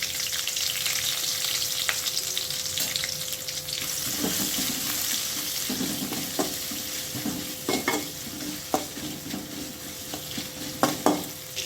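Chopped onions sizzle in hot oil with cardamom and bay leaf, a steady close frying hiss broken by repeated scrapes and stirs of a spoon in the pan for mint rice, without any talking.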